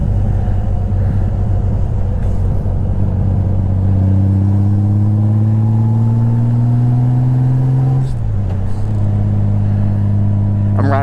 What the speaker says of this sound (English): I'm riding the rest of this one with my visor open just because I kind of want to get a feel for what it sounds like.